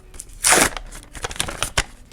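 A quick rip of a paper sticker packet being torn open, followed by softer crinkling and rustling of the wrapper.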